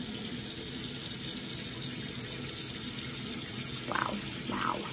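A bathroom tap runs steadily into a sink while mascara is washed off, a constant hissing stream with a couple of brief splashy changes near the end as hands move under the water.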